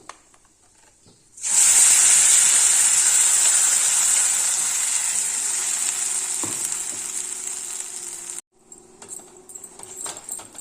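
After a quiet start, a loud, bright sizzle erupts as ground paste hits a hot pan while making butter paneer masala, hissing steadily for several seconds before stopping abruptly.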